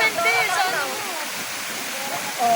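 Fresh mountain water rushes at Tangadan Falls as a steady, close roar. Voices talk over it throughout.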